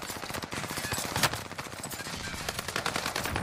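Dense, rapid video game gunfire rattles almost nonstop, with bursts overlapping into a busy, moderately loud barrage.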